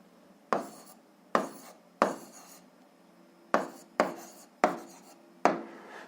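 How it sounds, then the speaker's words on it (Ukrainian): Close, crisp pen scratches as an answer to a seventh-grade algebra exercise is written on paper, roughly seven quick bursts separated by short pauses, with no voices. "тоді записуємо відповідь, пишемо відповідь"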